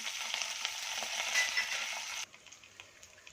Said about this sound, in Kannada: ಮೆಣಸಿನ್ಕಾಯಿ ಹಾಕ್ತಾಯಿದ್ದೀನಿ ಒಗ್ಗರಣೆಗೆ